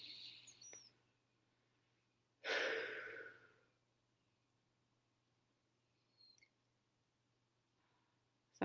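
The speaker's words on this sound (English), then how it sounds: "deep breath." During an EFT tapping session, one fairly loud deep breath rushes out after a quiet stretch, followed by a few faint small sounds and a low steady hum underneath.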